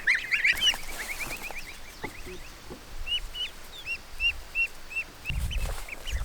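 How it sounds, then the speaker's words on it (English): A duck and a tiny bantam hen forage in grass, giving a scatter of short clucks, chirps and quacking calls at close range, with a low rustle near the end. "Look at the duck. It's eating grass seeds."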